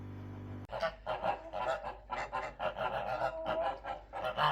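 A flock of Kholmogory and Danish Legarth geese honks and cackles repeatedly nearby during weighing, overlapping calls forming a noisy, continuous chorus.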